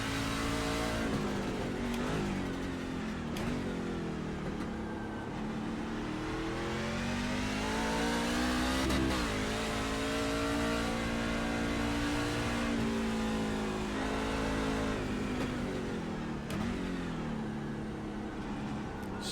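Race car engine in iRacing on the St. Petersburg street circuit, held in second gear: a loud, close engine drone that rises and falls steadily through repeated revs for the whole stretch, with no talking.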